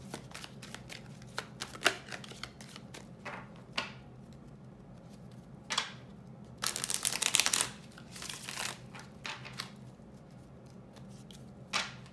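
Tarot cards being shuffled for a Celtic cross spread, with soft crisp riffles and slides in scattered bursts, one longer busy flurry near the middle, set against a quiet steady background hum.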